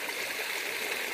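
Water pours steadily from a pipe in a village with a water supply problem, a continuous broadband rushing splash that stays even and close throughout.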